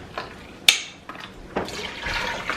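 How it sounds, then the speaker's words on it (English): Chicken stock poured from a carton into a cooking pot for a keto meal-prep soup, a close splashing pour with a sharp clunk and rising liquid rush, brief and loud. "We're gonna do 2 quarts of chicken stock. Right into the pot."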